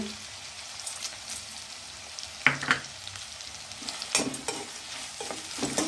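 Chopped tomatoes sautéing in a pan while wheat rava kichdi is cooked, with a soft steady sizzle, a few louder stirring scrapes near the middle and end, and no talk.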